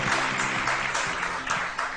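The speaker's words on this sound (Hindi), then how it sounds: "बहुत सारी तालियां होनी चाहिए उनके लिए" Studio audience applauding a guest, the chairperson of the Fashion Pakistan Council, on a Pakistani morning talk show; steady, fairly soft clapping of a modest crowd runs throughout without a break.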